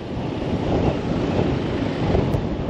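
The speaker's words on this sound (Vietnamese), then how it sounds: "Ôi gió." Strong wind buffets a microphone outdoors on a city street in Saigon, a steady loud low roar with gusty swells throughout and no voices.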